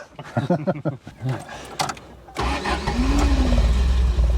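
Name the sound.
1981 Triumph TR7 Convertible engine starting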